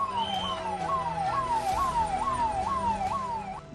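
An ambulance rushing injured children to hospital after the Morbi bridge collapse in Gujarat sounds its siren in a rapid, regular wail that rises and falls about seven times, loud and continuous with faint traffic rumble beneath.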